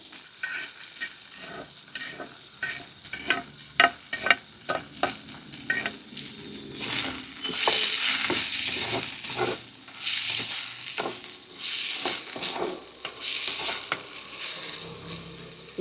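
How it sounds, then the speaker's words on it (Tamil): Onion, green chili and garlic sauté in oil for Jaffna-style prawn pittu masala. A run of sharp spoon taps and clicks leads into steady, close sizzling that swells in repeated bursts as the mixture is stirred. "பச்சை மிளகாய், உள்ளி மூன்றும் நல்லா பொன்னிறமாக வதங்கி வர அளவுக்கு எண்ணெயிலேயே அப்படியே வதக்கி எடுக்கணும்."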